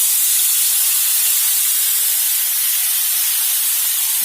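Onion paste hits hot oil in a pan, a loud, steady, broadband sizzle that hisses continuously and evenly from start to finish.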